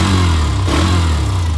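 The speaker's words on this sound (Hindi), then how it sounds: "अभी ये मोटरसाइकिल चालू है तो मैं इसका आवाज भी आपको चेक कराता हूँ।" A Hero Xtreme 125R motorcycle idles with its exhaust running, a steady, loud low engine rumble that stays even throughout with no talk.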